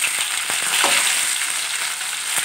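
Potatoes frying in hot mustard oil, a dense continuous sizzle with a few light taps and stirs, close and loud, no talking.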